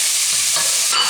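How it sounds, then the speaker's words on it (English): Minced lamb and onions fry in a pan with a loud, steady crackling sizzle, heard close up with a stir briefly stirring the texture. "And I'm going to fry this until it's a nice golden brown colour now"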